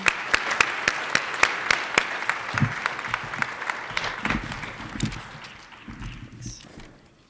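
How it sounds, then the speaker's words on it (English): An audience claps at a business honor society induction ceremony. It opens with a few sharp, separate claps that quickly grow into steady applause, then thins out and fades over several seconds. "Why don't we all give them a round of applause and you all a round of applause"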